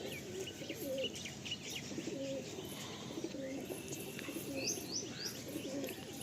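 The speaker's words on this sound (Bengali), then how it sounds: "এগুলো ধাড়ি পায়রা" Adult Madrasi pigeons coo softly and repeatedly at a distance, with scattered higher chirps from other birds over quiet background noise.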